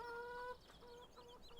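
Chickens cluck in the farm game Farming Simulator 17, a steady, fairly close call at the start that fades into scattered softer clucks over background ambience.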